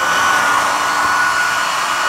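A hair dryer blows steadily and loudly at close range, a continuous whooshing hum with a faint high whine, no voices.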